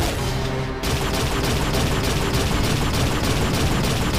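Rapid, sustained weapon fire bouncing projectiles around in the Unreal shooter, a dense, loud barrage of repeated shots with a brief dip near the start, no talking.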